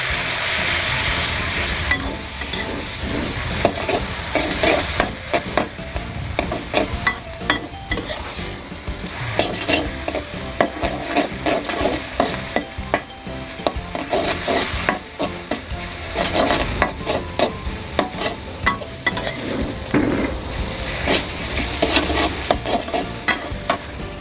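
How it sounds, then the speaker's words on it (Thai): Thin rice noodles stir-fry with a splash of water for Thai pad thai, a steady loud sizzle broken by constant scraping and tossing strokes in the pan, running without pause and with no talk. "ใส่เส้นลงไปค่ะ ใส่น้ำลงไปนะเพื่อผัดเส้นให้นุ่มก่อนนะคะ"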